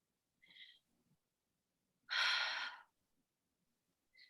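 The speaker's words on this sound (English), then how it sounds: "Take a deep inhale. Open mouth, exhale." Deep breath work in a guided relaxation session: a soft nasal inhale near the start, then a loud, breathy open-mouth exhale lasting under a second, close to the mic, with quiet pauses around it.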